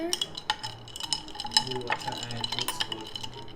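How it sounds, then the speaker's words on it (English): Khudalagse pudding milk tea being stirred, with soft clinks and liquid swirling in a cup, fairly close and steady, while a voice talks faintly in the background. "Give it a nice stir."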